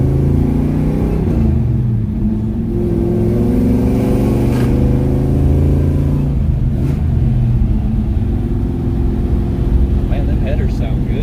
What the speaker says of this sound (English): Man, them headers sound good though.